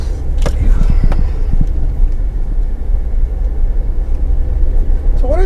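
A 2019 Suzuki Jimny crawls off-road, its engine giving a steady low rumble mixed with road and wind noise throughout, with a few brief vocal sounds early on.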